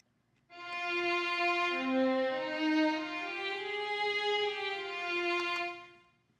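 One sustained melodic line plays the A theme of the second violin part of Byrd's Kyrie from a four-voice mass, in smooth, held tones for about six seconds.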